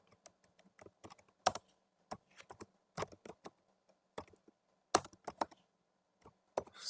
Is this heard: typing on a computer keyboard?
yes